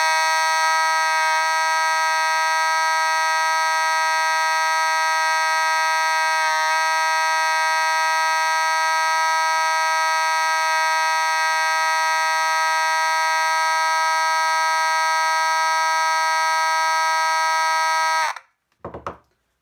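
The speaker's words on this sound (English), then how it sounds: "I'm going to zoom in as I test the sounder" A Simplex 2901-9806 fire alarm horn sounder blares on continuous, a loud, steady buzzing tone held for about eighteen seconds before cutting off abruptly.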